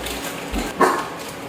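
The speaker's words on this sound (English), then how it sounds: "What you barking at?" A single short dog bark rings out close by, over a low background hum.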